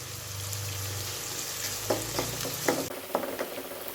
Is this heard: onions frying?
yes